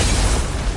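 A detonation in the video game Honkai: Star Rail: one loud, broad, booming blast that fills the whole moment with no pause.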